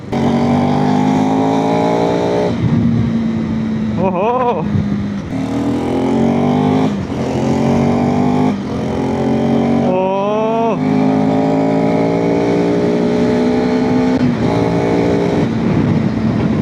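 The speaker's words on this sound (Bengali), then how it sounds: "এক্সস্ট নোটটা পুরোপুরি অন্য রকমের এই বাইকটাতে।" A motorcycle engine and exhaust heard close while riding on a Kolkata to Siliguri trip, a steady droning note that rises and falls with revs and gear shifts, a brief exclamation from the rider.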